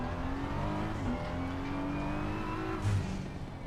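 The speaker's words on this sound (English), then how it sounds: "Let me know also if the sound of the cars is too loud, guys." A BMW M4 GT3 race car engine in Assetto Corsa Competizione drones steadily at high revs, loud and continuous, with a brief shift in pitch partway through and no talking.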